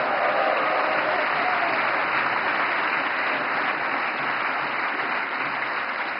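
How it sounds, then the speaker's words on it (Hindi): An audience in a hall at Vigyan Bhawan in New Delhi applauds at a Navkar Mahamantra Divas inauguration, a loud, dense and sustained wash of clapping that carries steadily through the whole stretch. "नवकार मंत्र के लिए जितनी ताली बजी, उससे ज्यादा जीतों के लिए बज रही है"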